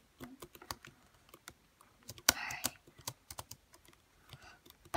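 Rapid, uneven key clicks on a computer keyboard, close and distinct, with a brief denser burst of keystrokes midway and short pauses between runs.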